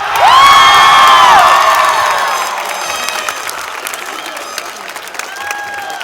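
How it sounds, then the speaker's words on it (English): Graduates at a 2022 high school graduation ceremony cheer loudly and applaud as they throw their hats, with high shouts and whoops from a large crowd that gradually fade into scattered clapping and chatter. "you may throw your hats in the air and cheer"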